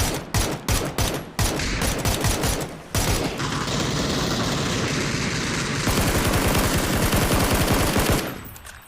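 Gunfire in a video game: a few separate shots open the burst, then a long sustained stretch of rapid automatic fire that cuts off abruptly, loud and close, with no voices.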